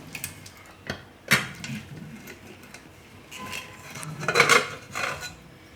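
A pressure cooker lid is opened after cooking potatoes for dum aloo, giving a few sharp metallic clanks and clicks of the lid and utensils, close and moderately loud, separated by quiet gaps.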